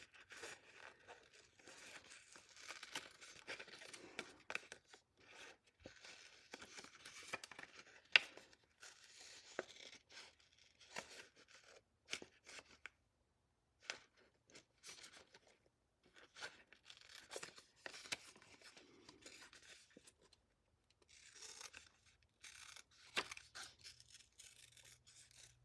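Scissors trim a piece of yellow paper for a craft card, a quiet run of soft snips and rustles scattered across the clip with short pauses between them.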